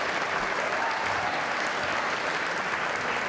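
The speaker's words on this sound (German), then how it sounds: "Gebt uns einmal einen großen Applaus" Guests at the Ball der Roten Herzen give a big round of applause for the bar, a thick, even wash of clapping filling the hall without pause.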